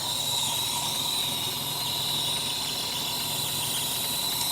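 A 1959 Meteor car engine idles steadily just after firing up, a constant, dense mechanical drone with a faint high whine, heard close and alone with no talk.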